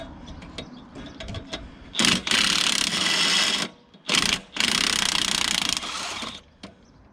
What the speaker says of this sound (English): These should come out with the impact wrench.